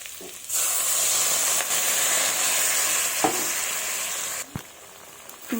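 Steady loud sizzling of spice paste for a duck egg curry as water goes in, a bright continuous hiss with brief breaks, a spoon scrape and a clack near the end.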